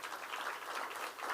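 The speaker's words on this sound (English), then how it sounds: "We need to clap for you because of the work you're doing." An audience at a ministerial school meals coalition meeting claps in a brief, steady burst of applause that fills the room without any speech.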